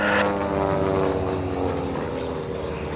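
An aerobatic airplane flies a hammerhead stall turn at an airshow, its propeller engine a steady loud drone with a rough, buzzing tone that holds throughout without pause.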